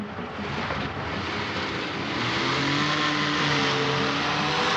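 A car speeds along in a tense action film scene, its engine a steady, loud drone that swells and climbs in pitch as it accelerates, with no voices over it.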